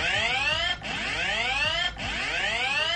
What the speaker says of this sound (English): this one is loud and it is annoying and it sounds like a like fire siren almost